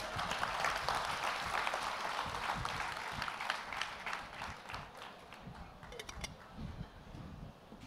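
A seated audience at a Telugu spiritual discourse claps. The applause is dense and sustained, filling the hall throughout and tapering off gradually toward the end.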